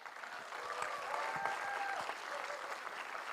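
Conference audience at Beyond Research Conference 2025 applauding Dr. Tabassum Khan: a full room clapping steadily, building slightly and holding, with faint whoops rising above the clapping.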